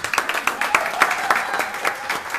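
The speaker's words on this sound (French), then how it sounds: "Je vous demande d'applaudir pour elle." An audience at a political conference applauds, a continuous crackle of many hands clapping at moderate loudness, steady for the whole moment with no speech over it.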